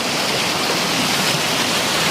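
Bagsit River in Zambales flowing: a steady, close, full-band rush of moving water, continuous and unbroken throughout with no voices.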